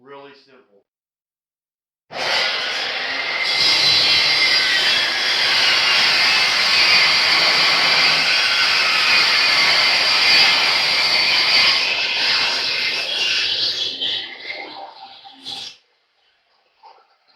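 A table saw slices a taper along a 2x4 for a farm-style chair, a loud, sustained whining cut that runs steadily for about thirteen seconds before tapering off and stopping, close by and alone.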